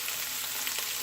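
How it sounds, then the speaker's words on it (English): Onions sizzle steadily on the high saute setting of a Ninja cooker, a bright continuous hiss heard up close with no talking. "I have it on the high setting because I'm going to saute these onions and celery"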